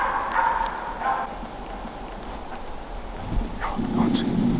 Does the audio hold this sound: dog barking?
yes